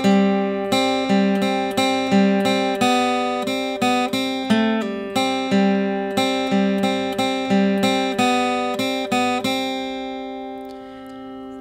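An electric guitar plays the lead line from the intro of a song as a steady run of picked and slurred notes, bright and up close for about ten seconds, then ringing out.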